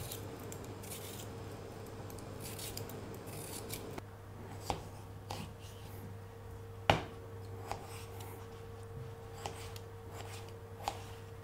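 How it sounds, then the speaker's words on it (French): Potatoes being peeled and cut into large chunks, with soft scraping strokes and a run of sharp, separate knife clicks and taps close by, fairly quiet and without speech. "Éplucher les pommes de terre et les couper en gros morceaux."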